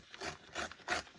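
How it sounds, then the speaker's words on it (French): A blade slices paper along a ruler in three quick rasping strokes, close and soft, with no voices. "ce qui est trop grand, je vais le découper à la règle"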